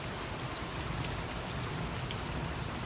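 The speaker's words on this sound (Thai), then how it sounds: "ฝนตกบรรยากาศดีดี" Steady rain patters against a window, a dense, even hiss of drops that holds without a break from start to finish.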